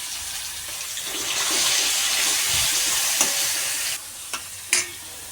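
Green chilies sizzling in hot oil in a kadai with garlic and curry leaves, a steady broadband frying hiss that swells and holds, then drops with a few sharp crackles and pops near the end.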